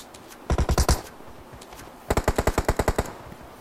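Two loud bursts of rapid automatic gunfire from the mobile game PUBG Mobile, a short volley followed by a longer one about a second later, each shot sharp and evenly spaced.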